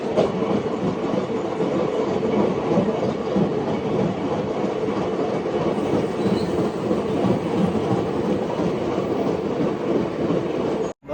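An Indian Railways passenger train on the Nashik to Mumbai line runs steadily, a continuous rumble with the rhythmic clatter of wheels over rail joints. The sound is fairly loud and even throughout, with no talk, and cuts off abruptly at the end.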